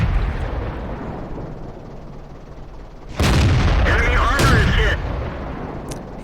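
In a tank video game, a German StuG III tank destroyer's gun fires with a loud booming blast, followed by a rumbling echo that fades over a couple of seconds after steady background noise.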